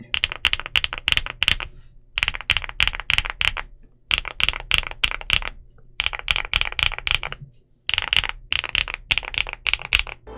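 Rapid bursts of muted, thocky keystrokes on a Weikav Nut65 aluminum 65% mechanical keyboard, typed in short runs separated by brief pauses, close and clear.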